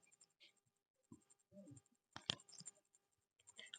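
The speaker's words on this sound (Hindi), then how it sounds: "अब लिखेंगे हम" Chalk or marker scratching across a board during a tenth-grade physics class, quiet scattered strokes and taps in short bursts with a few sharper clicks, close and faint, with no speech over it.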